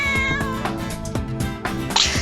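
A cat meows within a children's bedtime story, set against a dense musical background; the meow comes out briefly and clearly over the steady music.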